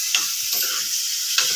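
Food frying in a pan makes a short, even hiss with a few light ticking clicks on top.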